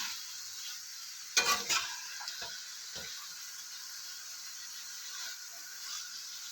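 Marinated chicken fries on a gas flame turned to maximum in a little oil, a soft continuous sizzle broken early by a short burst of spoon scraping and a few light clinks as it is stirred.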